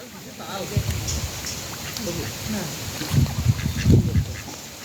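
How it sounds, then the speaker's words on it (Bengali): Ducks, including a white one, squabble on a pond, with bursts of splashing and low honking quacks growing louder toward the end, while a voice talks nearby. "এই যে সাদা হাঁসটা দেখেন কি অবস্থা ওর এদের যুদ্ধ"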